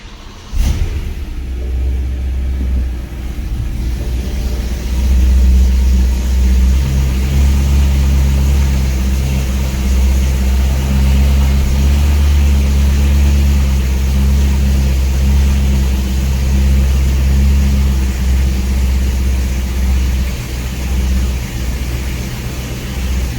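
A BMW E93 M3 V8 fitted with lowering springs turns over on a warm start and settles into a steady, deep idle rumble, loud and close, with a brief catch at the start and no talking.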